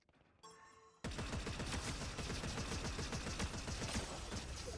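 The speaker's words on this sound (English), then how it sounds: "Who's shooting at me?" Video game gunfire erupts after a brief quieter mechanical moment, then continuous loud rapid shots and automatic bursts fill the rest, dense and close, with no talk.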